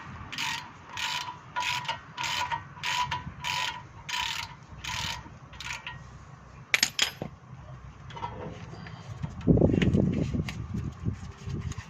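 Ratchet loosening the brake caliper bolts on a Land Rover Discovery 3, a run of about eight evenly spaced rapid clicking bursts up close, followed by a few louder metallic knocks and a rougher clunking scrape near the end.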